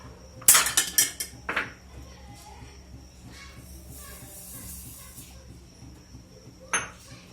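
Sugar being stirred into a phirni (rice pudding) mixture in a metal pot: a quick burst of spoon clinks and scrapes near the start, softer stirring after, then one more clink near the end.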